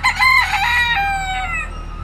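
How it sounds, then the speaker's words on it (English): A rooster crows once at a Hawaiian pineapple plantation, a loud, close call with a rising opening and a long, wavering drawn-out note that fades at the end, heard alone without talk. "Rooster."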